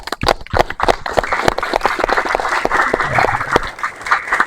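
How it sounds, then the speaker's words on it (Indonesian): An audience at a school presentation claps loudly and close by, with distinct individual hand claps in an uneven, lively patter that carries on for a few seconds. "Kasih tepuk tangan dulu."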